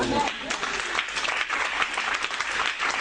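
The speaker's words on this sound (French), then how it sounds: "Acclamons le Seigneur." A church congregation claps together in steady, dense applause, with voices mixed in throughout the short burst.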